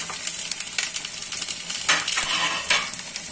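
Whole spices and cashews (bay leaf, green cardamom, cloves, cinnamon, cumin) fry in oil in a pan, a steady soft sizzle with a utensil scraping and clinking against the metal in several brief bursts.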